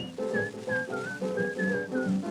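A bright, melodic whistled tune with short phrases rising and falling, close and clear, over a soft musical backing.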